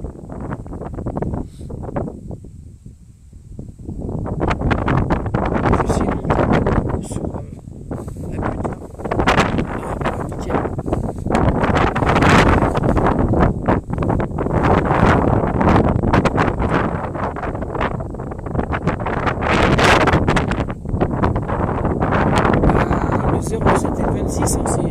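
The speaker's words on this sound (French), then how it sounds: "Oui, beaucoup de vent." Strong wind roars and buffets the microphone almost nonstop during stormy, rainy weather in Rhône-Alpes-Auvergne, France, with a loud gusty rumble and rushing noise; a voice speaks French now and then beneath it.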